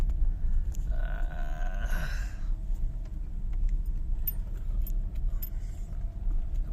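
Car underside scraping and knocking as it drives through a rice field, a clattering burst near the start over steady engine rumble, then scattered light scrapes and rattles.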